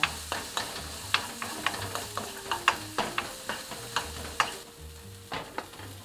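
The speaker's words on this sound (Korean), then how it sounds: "당근을 넣고 볶아주세요." Carrots stir-fried in a pan for a ham and vegetable side dish: repeated sharp scrapes and clacks of a utensil against the pan over a soft, close sizzle, with faint steady tones in the background.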